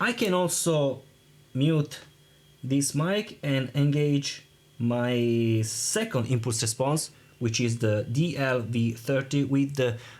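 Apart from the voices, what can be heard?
No everyday noises stand out.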